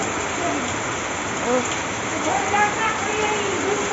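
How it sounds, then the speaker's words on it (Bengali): Heavy downpour of monsoon rain falls steadily as a dense, continuous hiss, close and loud, with faint voices in the background. "হেভি বৃষ্টি হচ্ছে, সেই সেদিনের মতন মুষলধারে।"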